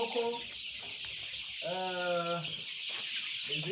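A healthy young rooster, about 23 days old, clucks at close range on a poultry farm, giving a sustained harmonic call between short clucks, with little else audible.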